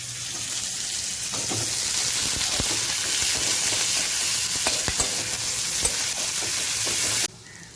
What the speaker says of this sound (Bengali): পরিমাণ মতো পেঁয়াজ দিলাম আর কাঁচা লঙ্কা দিয়ে দিলাম বেশি করে